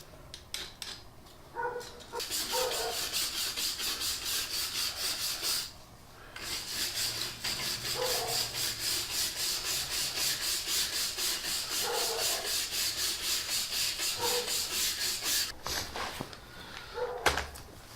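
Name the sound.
scraping old gasket material off Dana 35 axle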